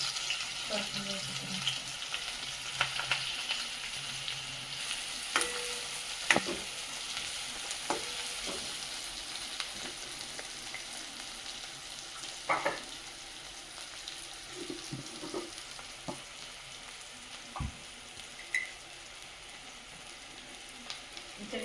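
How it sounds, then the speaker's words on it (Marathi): Onions fry in oil with asafoetida until golden for a Marathi wheat vadi curry, producing a continuous moderate sizzle with intermittent stirring clinks and scrapes, with someone speaking faintly at times. "आपण कांदे टाकायचे कांदे मस्त लाल होईपर्यंत असते"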